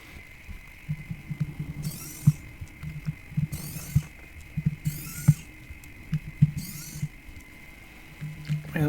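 Small screws being worked out of a Samsung A14 phone frame during a screen replacement, giving a run of quiet, close, irregular ticks and clicks from the driver over a steady low hum, with a few brief hissy bursts between them.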